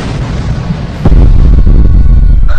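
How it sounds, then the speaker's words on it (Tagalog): A sudden deep boom bursts out after a second of rushing noise, followed by a heavy low roar like strong wind. "biglang sumabog ang apoy na may kasamang malakas na paghangin"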